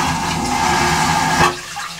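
A cruise ship cabin toilet aboard the Disney Fantasy flushes with a loud, steady rushing roar for about a second and a half, then cuts off abruptly, leaving a quieter trickle of water refilling the bowl.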